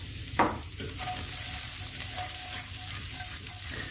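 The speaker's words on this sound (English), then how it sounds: "So the onions are cooking, getting a bit soft, as you can see." Onions and garlic frying in a little oil in a pot with chicken for a Malian peanut stew, giving an even, moderate sizzle with a clank of a utensil near the start and soft stirring throughout.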